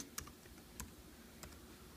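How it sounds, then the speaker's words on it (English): Faint, sparse keystrokes on a computer keyboard tap at irregular intervals against a quiet background. "type in his name here"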